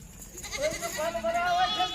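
Goats and young kids on a goat farm bleat with a thin wavering cry that rises under a voice talking nearby, against outdoor background noise.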